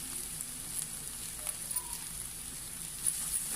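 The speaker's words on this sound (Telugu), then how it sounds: "ఆలు మిశ్రమం వేసి చక్కగా ఫ్రై చేసుకోవాలి" Spiced potato samosa filling fries steadily in a hot pan, a continuous close hiss and crackle with small pops and occasional stirring scrapes, no voices.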